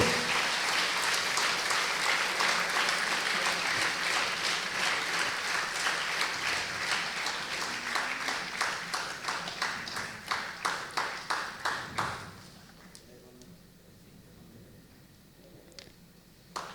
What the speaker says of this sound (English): Let's show our happiness through a loud round of applause